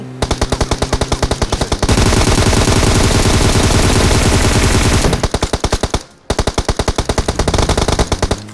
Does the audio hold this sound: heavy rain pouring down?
no